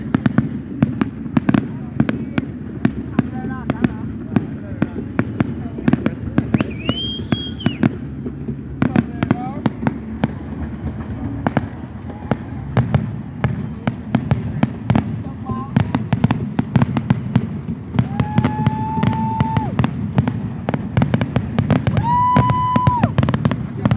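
A fireworks finale at a Fourth of July celebration: dense, rapid volleys of loud bursts and crackles, with whistling rockets rising between the blasts, sustained and close throughout.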